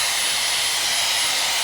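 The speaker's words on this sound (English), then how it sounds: "I do take my hairdryer on the cool setting," A hairdryer on its cool setting and lowest fan blows steadily with a constant airy whoosh, loud and close, with no changes in pitch or speed.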